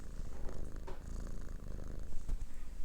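A small cat purrs steadily up close, a low continuous rumble with a rhythmic pulse running through the whole stretch, heard alone with no talking.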